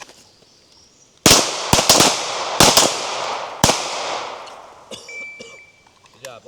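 Handgun shots ring out at an outdoor shooting range in a quick, uneven burst of several sharp, loud cracks, each with a short echoing tail, followed by fainter clinks and quiet.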